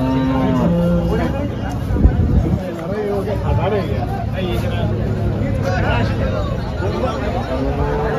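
Cattle moo loudly and repeatedly amid a busy outdoor livestock market crowd of cow traders, with chatter and babble running throughout.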